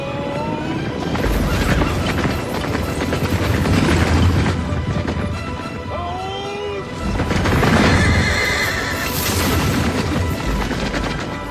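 English cavalry horses in a loud battle scene, whinnying and neighing over a dense rumbling roar of galloping and clashing that swells twice across the stretch.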